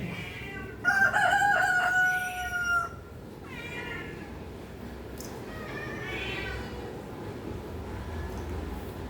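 Cats meow loudly in a couple of drawn-out, wavering cries early on, then softer calls over steady background noise.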